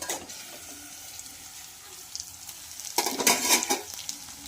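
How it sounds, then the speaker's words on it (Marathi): Eggplant dry curry simmers in a pan over a low gas flame, giving a soft steady sizzle, then a louder burst of stirring and scraping partway through, close by and without voices. "5 मिनिटं ही भाजी मंद गॅसवर छान शिजून घेणार आहोत"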